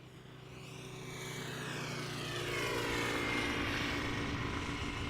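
An airliner arriving at Amsterdam Schiphol Airport gives a steady, broad engine roar that swells gradually and holds loud and sustained, with a rising whine on top and no voices.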